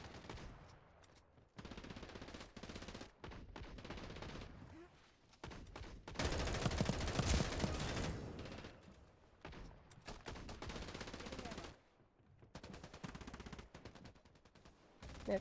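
Gunfire from the Farlight battle game comes in dense, rapid bursts, loud and close, broken by short pauses, with a long sustained volley in the middle and brief voice chatter.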